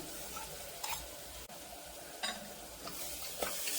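Masala paste with onions sizzles steadily in a pan while a spoon stirs it, giving a few scraping strokes over the continuous close frying hiss.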